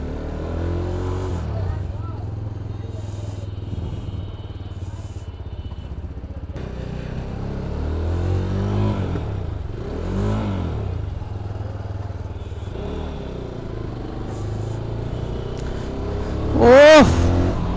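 A higher-cc motorcycle is ridden with its engine droning loudly, repeatedly revving up and easing off in rising and falling sweeps, with a sharp high rev burst near the end.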